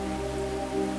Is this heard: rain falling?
yes